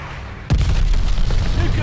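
A bombing run in Call of Duty: Vanguard sets off a sudden heavy boom partway through, followed by a sustained loud rumble of explosions and debris.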